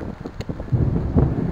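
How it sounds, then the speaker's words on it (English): Wind gusting against a microphone outdoors under gloomy, breaking clouds near a freeway, a steady low rumble swelling louder in buffets partway through, with no speech. "Sorry about the wind."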